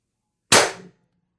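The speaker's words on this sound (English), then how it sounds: "Mercury Rise torpedo revolver, 4 gram ammo, 800 PSI high pressure air. Shot 1." Mercury Rise TR50 torpedo revolver firing 4-gram ammo on 800 psi high-pressure air, producing one sharp, loud pneumatic crack with a short decaying tail, alone in an otherwise silent setting.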